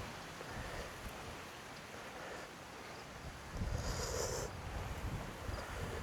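Strong wind buffets a tent at a solo motorcycle campsite before dawn, a steady roaring rush that swells into a louder gust near the end, with no voices.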